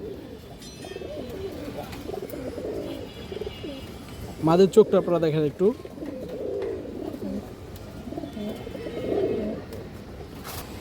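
Pigeons coo softly in the background of a pigeon sale while someone talks steadily nearby, with a brief louder flutter of wings in the middle.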